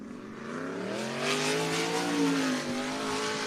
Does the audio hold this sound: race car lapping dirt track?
yes